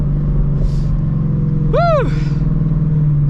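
A 2016 Ford Shelby GT350 driving, with a steady low engine drone and rumble from inside the cabin; a brief whistling, sweeping tone rises and falls midway and a voice shouts once.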